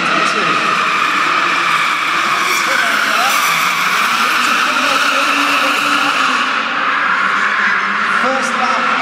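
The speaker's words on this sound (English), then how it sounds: "Little downshift there, you blow the throttle." A BMW car on an indoor track at a live motoring show in a London exhibition hall downshifts and revs, with tyres squealing and engine noise echoing loudly under a commentator's voice and crowd noise.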